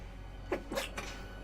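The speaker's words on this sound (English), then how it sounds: "Oh, hold on, I have to sneeze, I'm sorry." One person sneezes once, a short, fairly quiet burst with a brief intake of breath before it, heard close over a steady low background hum.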